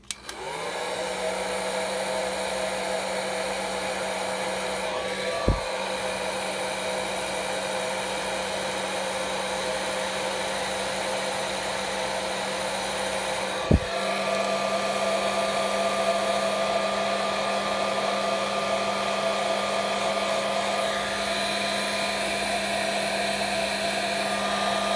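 A heat gun running continuously at close range while shrinking heat shrink tubing on motorcycle CDI wiring, a steady loud whirring blower hum with a constant tone, broken only by two faint clicks.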